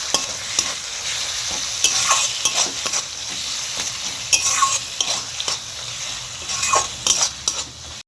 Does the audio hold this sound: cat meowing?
no